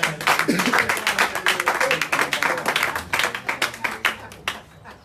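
Church congregation clapping together in rhythm at a worship gathering, a dense run of loud overlapping claps that thins out toward the end, with voices mixed in.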